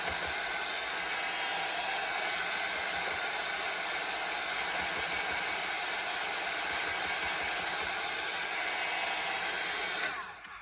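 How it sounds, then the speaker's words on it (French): A heat gun blows steadily to dry small paint drops on an art collage, a loud continuous whooshing roar of hot air lasting nearly ten seconds before cutting off abruptly near the end. "je vais utiliser le heat gun pour chauffer un petit peu et donc sécher"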